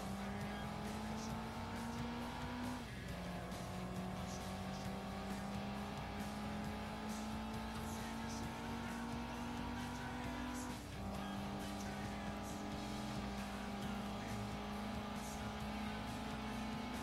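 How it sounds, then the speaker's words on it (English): A racing car spins out in Gran Turismo 2, its engine drone holding steady and dropping pitch twice as it loses grip, with tire squeal mixed in, loud and continuous throughout. "apparently this car spins out really easily"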